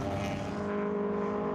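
Classic race cars, including a Ford Cortina and a Cooper S, roar past on the Silverstone circuit at the 2014 Silverstone Classic, a steady, fairly distant engine drone with a slight pitch shift as they pass.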